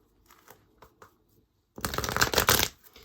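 A tarot card deck is shuffled after a few soft taps and handling sounds, then a loud, crisp riffling burst of cards runs for about a second before trailing off.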